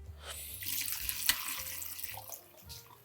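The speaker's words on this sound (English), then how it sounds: "Now I'm gonna fill this with water until it covers all of the stuff inside the pot." Tap water running into a stock pot of bones and vegetables for homemade bone broth, a steady close splashing gush that tapers off near the end, with no talk.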